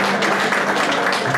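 A gala dinner-dance audience breaks into dense, sustained applause, many hands clapping close together in an even roar with no pauses.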